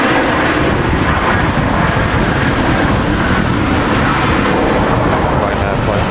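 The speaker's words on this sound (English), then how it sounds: "Just touching down from Milan." A jet airliner arriving from Milan touches down at Manchester Airport on a very windy day, a loud broadband roar of engines and rushing wind filling the whole stretch, steady and close.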